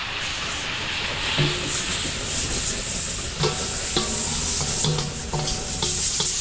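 Fresh coconut milk goes into a pan of sautéed garlic and onion, hissing and sizzling steadily while a utensil clinks and scrapes against the pot in irregular taps, in a catering kitchen at a private resort.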